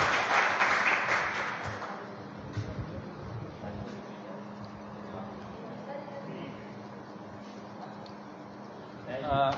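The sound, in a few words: audience applause at school award ceremony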